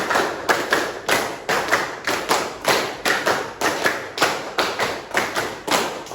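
A classroom of students clapping in a counted rhythmic pattern, with sharp, loud group claps in repeated bursts separated by short pauses, close and without speech.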